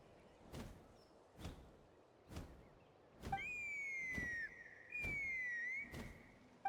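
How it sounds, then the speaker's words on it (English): Two sustained whistled tones in Genshin Impact, each gliding slightly downward for about a second, stand out clearly over a game scene punctuated by regular thumping footfalls. "That sounded like a whistle"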